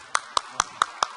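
Five crisp, evenly spaced hand claps ring out at a brisk steady rhythm, close and distinct against a quiet background, at a meeting where a speaker has just called for a round of applause.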